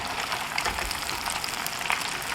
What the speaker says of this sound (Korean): 2차 튀김을 할 때는 고온으로 하는 게 좋고요